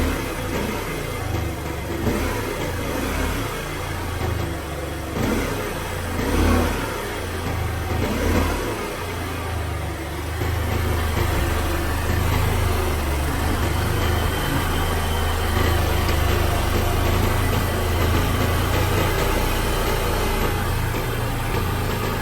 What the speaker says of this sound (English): Give some gas.